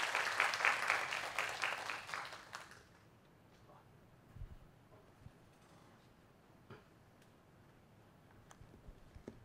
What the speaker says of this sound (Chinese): 那我们以热烈的掌声欢迎杨老师来我们讲座